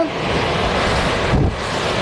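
A home air cooler runs with a steady, loud broadband whoosh of moving air that stays constant throughout, close to the microphone.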